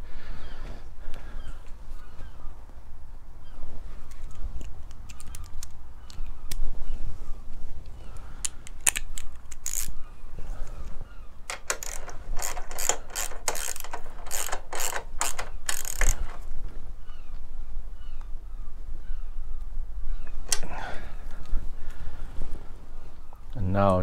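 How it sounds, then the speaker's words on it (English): A ratchet with a 12mm socket tightens a bolt on a Triumph Thruxton R motorcycle. It gives bursts of rapid clicking, with talk in between. "This is your 12mm socket to tighten this up."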